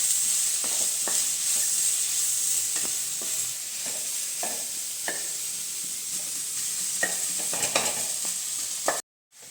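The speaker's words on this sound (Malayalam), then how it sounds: "ഇത് ഞാനിപ്പോൾ 2 തണ്ട് കറിവേപ്പില ചേർക്കുന്നുണ്ട്. നന്നായി വഴറ്റി കൊടുക്കാം." Onions, green chillies and curry leaves sautéing in a hot pan give a steady sizzle. A spatula scrapes and stirs through it now and then, the sound loud and close with no voices.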